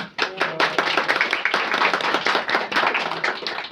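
Close, crisp clapping from a few people at a traditional Avanos pottery workshop as a clay piece is lifted off the wheel, rapid uneven hand claps with a faint voice behind them.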